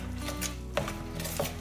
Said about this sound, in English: let's give this a good mix together